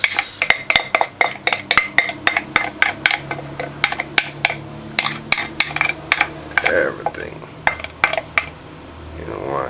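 A utensil rapidly scrapes and knocks against a bowl while butter and sugar are mixed into flour for a fruit cake, sounding as loud, steady, repetitive clatter that continues for several seconds.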